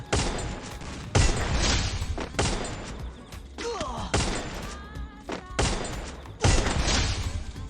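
Gunfire rings out in the Free Fire video game, with repeated loud bursts of shots and heavy thuds in uneven clusters, close and punchy, alongside faint game effects.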